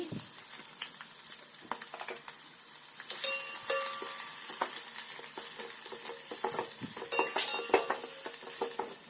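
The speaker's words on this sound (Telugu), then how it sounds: "ఇవి బాగా బ్రౌన్ కలర్ వచ్చేంత వరకు ఫ్రై చేసుకోవాలి" Four medium cut onions frying in a pan for chicken pulao, a steady close sizzle broken by frequent spatula scrapes and clinks against the pan.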